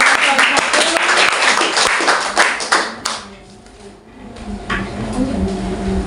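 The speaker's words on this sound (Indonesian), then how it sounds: "tepuk tangan" Applause at a school student council candidates' debate: a burst of clapping for about three seconds, fading into quieter room noise with faint scattered claps afterward.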